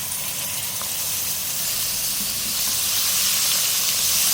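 Half a kilo of hand-pounded beef mince hits golden onions frying in a pan and sizzles with a steady, close hiss that swells slightly louder toward the end, with no talking.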